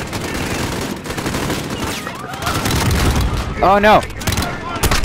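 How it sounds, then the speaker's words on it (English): Rapid gunfire bursts in Call of Duty: Modern Warfare (2019) crackle continuously under a player's excited talk, with a distinct sharper volley near the end. "Why are you running towards the gunfire?"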